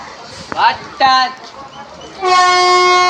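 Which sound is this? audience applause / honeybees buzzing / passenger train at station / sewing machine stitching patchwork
passenger train at station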